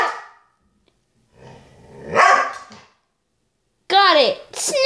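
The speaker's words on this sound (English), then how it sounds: "He's growling." A dog growls low and rumbling, then lets out a couple of sharp yelping barks close by; a voice speaks briefly.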